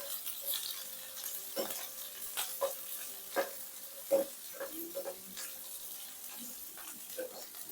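Finely chopped ginger, garlic and onions fry in a pan for cabbage Manchurian, giving a soft, continuous sizzle broken by a run of spatula taps and scrapes as they are stirred.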